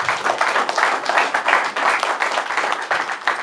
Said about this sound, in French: Acclamons pour la gloire de Jésus